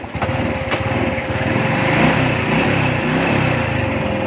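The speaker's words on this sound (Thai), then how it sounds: "ลองแตะแล้วก็สตาร์ทเครื่องดูนะครับ สตาร์ทเครื่องยนต์ดู" A car engine turns over and catches during a battery check, then runs with a steady, buzzing rumble close by. No voices.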